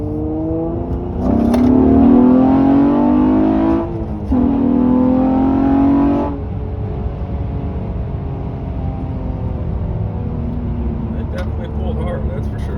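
A car with a J37 throttle body accelerates hard in second gear, its engine note rising loud and steady for several seconds, dipping briefly, then surging again before settling to a low idle hum.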